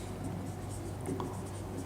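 A lecturer writes out matrix notation on a board during a business mathematics class, producing a steady, soft scratching stroke close to the microphone over a constant room hum.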